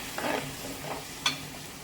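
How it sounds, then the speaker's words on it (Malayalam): A few soft scrapes of a spoon stirring and mixing food in a pan while making puliyodharai (tamarind rice), faint and quick, over a low background sizzle. "മിക്സ് ചെയ്യാം നല്ലോണം"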